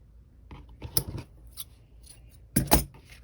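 Scissors snip through altered time cards made for a junk journal. Several short, crisp cuts come close up in an uneven rhythm, with a louder double snip near the end and quiet between them.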